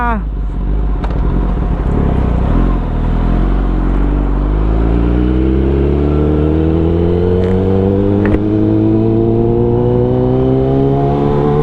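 A Kawasaki ZX-10R engine revs hard while riding, a loud, close, continuous roar rising steadily in pitch as it accelerates, with wind rumble underneath.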